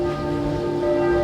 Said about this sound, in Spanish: Está sonando la campana.